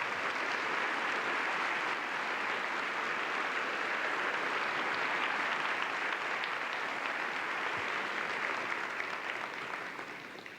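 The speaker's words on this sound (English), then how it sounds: "I think they deserve a round of applause for doing a great job" An audience at a 2002 school induction ceremony gives students a round of applause, a steady, even wash of clapping hands from a sizeable crowd that tapers off near the end.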